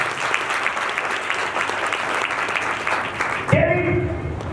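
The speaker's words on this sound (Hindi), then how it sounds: "जोरदार ताली देंगे प्रेज़ गॉड।" Loud, dense applause from a church congregation fills the room and runs steadily for several seconds before breaking off, with a voice cutting in near the end.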